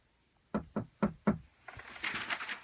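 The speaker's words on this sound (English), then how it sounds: "Arise, one knocks." Four sharp knocks on a wooden door in quick, even succession, fairly close and loud, then a rustling, shuffling noise follows.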